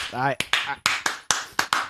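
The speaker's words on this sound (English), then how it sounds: "are you slow clapping for me?" Slow clapping during a podcast recording, about seven sharp claps at a steady, deliberate pace, loud and close, with a voice speaking briefly before the claps begin.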